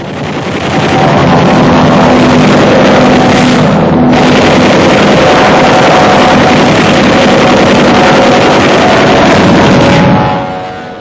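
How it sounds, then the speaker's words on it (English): A 1945 wartime enemy interceptor aircraft flies past with a loud, sustained engine roar that fades in, holds steady for several seconds with a brief dip midway, then trails off. "Here comes an enemy interceptor."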